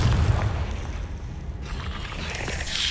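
Confringo spell blast in Hogwarts Legacy, a deep rumbling boom with crackling debris and a hissing tail, loud and close, with no talk over it.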